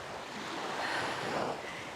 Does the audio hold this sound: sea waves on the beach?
yes